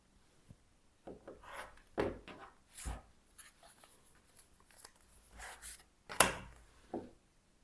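Scissors or a rotary cutter trim a foundation paper-pieced quilt block, giving soft scattered scraping and rubbing strokes and a few sharper snips, close and quiet, with no talking.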